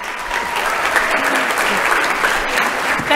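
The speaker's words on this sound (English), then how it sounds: "can everybody help me give Linda a big round of applause" An audience gives a guest speaker a round of applause at a talk on blackwater diving. The steady clapping runs evenly throughout without any voices.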